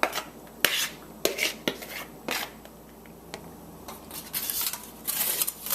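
Chicken curry scraped and spooned into an 8x8 baking pan, with several rasping scrapes and clinks of utensil on metal, close and moderately loud, no talking.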